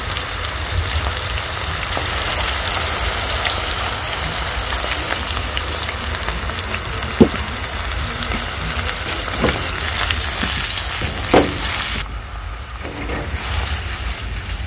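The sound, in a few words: onion, tomato, garlic, parsley and ginger simmering in pan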